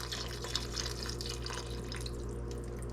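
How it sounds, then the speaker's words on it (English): Vegetable broth poured into a soup pot for root vegetable soup, a steady close splashing stream of liquid that runs on without break and without talk. "Now I'm going to go ahead and add 4 cups of broth."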